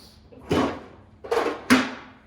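A drawer in a home kitchen slides open or shut in three brief scraping strokes, moderately loud and close, with no talk over them.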